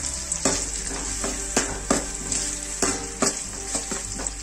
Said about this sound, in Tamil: வெங்காயம் லைட்டாக கலர் சேஞ்ச் ஆகிற வரைக்கும் நல்லா வதக்கினா போதும்